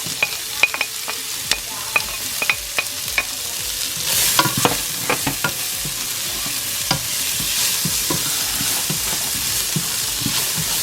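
Onions hit a hot pan and sauté, a bright sizzle rising under repeated metallic clinks and scrapes of a spatula against the pan, close and busy with uneven stirring strokes.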